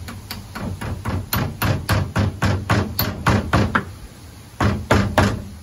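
A hammer strikes during a pinball cabinet restoration, about a dozen sharp, close blows in a steady rhythm, then a short pause and a few more hits.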